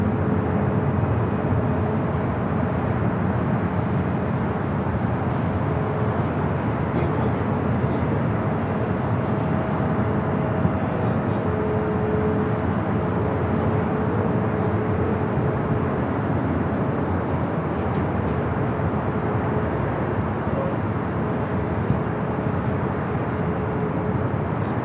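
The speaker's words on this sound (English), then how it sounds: "Air China number 2 for takeoff here on the north." An Air China airliner taking off from the north runway at Los Angeles International Airport, a constant broad jet roar with faint steady engine tones, loud and unbroken throughout with no voices.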